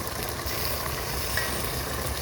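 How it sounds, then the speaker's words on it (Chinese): Two fish sizzle in a pan of hot oil while seafood is cooked, a dense, even frying hiss held close and constant throughout, with no talking. "把俩鱼下锅"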